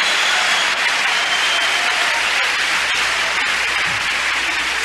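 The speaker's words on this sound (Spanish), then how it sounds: "Un aplauso al Señor por el trabajo de este varón" A church congregation applauds in praise, honoring a man who led the youth group for five years; steady, dense clapping fills the room without pause and stays loud throughout.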